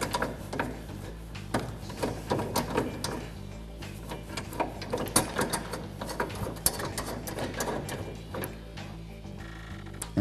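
Adjustment rod on a John Deere Gator track carriage being turned, giving a continuous mechanical ratcheting and clicking with irregular metallic ticks under a steady low hum, close and moderately quiet.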